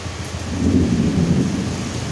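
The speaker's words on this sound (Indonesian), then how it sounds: "Cuacanya lagi gerimis, mendung campur hujan pokoknya ya." Drizzle and rain fall under an overcast sky in the Bogor area near Pakansari Stadium, making a steady, dense wash with a deep low rumble throughout and no voices.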